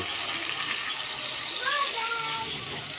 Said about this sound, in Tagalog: Lalagyan na natin ng tubig.